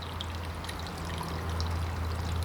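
Steady rushing and trickling of water running down a small stream toward falls, continuous and fairly close, with no voices.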